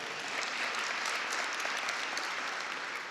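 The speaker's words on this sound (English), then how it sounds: "that's a round of applause" At a metro swearing-in ceremony, an audience breaks into dense, steady applause, close and even throughout the short stretch.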